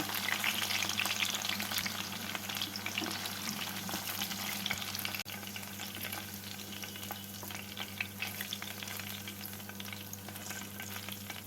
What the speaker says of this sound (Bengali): বাকি চিকেনগুলোকেও এভাবে ভেজে নেব